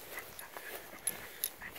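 A leashed dog that wants to pull whines faintly in high, thin bursts over a quiet outdoor background at the Sand Island Lighthouse, with no talking.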